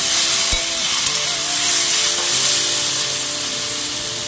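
Food frying in a pan gives a steady, close sizzle with a constant hiss and a few faint scrapes, and no one speaks.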